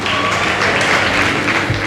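A round of applause from an audience at a World Food Day ceremony held at a high school, steady moderate clapping from a crowd throughout, with faint voices underneath.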